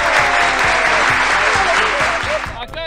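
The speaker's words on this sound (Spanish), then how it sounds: "vamos a darle un aplauso a los campeones actuales del canal." Audience applause rings out for the current champions of a laugh-challenge crew, a dense, steady wash of clapping that fades slightly near the end as a voice cuts in.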